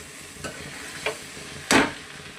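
Cowpea bhaji being stirred in a kadhai, with a few distinct scraping strokes over a low, steady frying hiss, the last stroke louder and longer; no voices.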